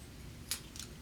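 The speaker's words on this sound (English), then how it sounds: "Grab my snips, snip off the end," Metal snips cut through the end of a paper strip in two quick, crisp snaps, quiet and close against a hushed room.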